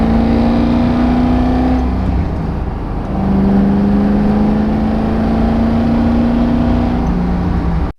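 A Chevrolet Corvette Z06 cruises on the open road, its engine a loud, steady drone heard from inside the car, with a brief dip in pitch partway through as the revs shift, then climbing again.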